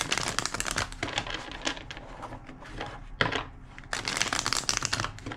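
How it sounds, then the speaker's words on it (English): Rapid papery riffling and crisp flapping of cards being shuffled, in two close bursts separated by a brief quieter stretch. "2 more shuffles."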